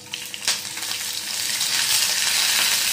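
Thinly sliced onion sizzles and fries in a pan as the base for a stuffed eggplant curry, a steady, moderately loud hiss with light crackle and an occasional stir throughout.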